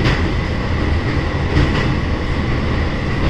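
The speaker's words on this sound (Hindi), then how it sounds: "नहीं, वेरावल पुणे एक्सप्रेस है ये।" Veraval Pune Express passing on the Pune–Mumbai line near the Khandala ghats, a loud continuous rumble of rolling coaches with faint clatter, steady throughout with no voices.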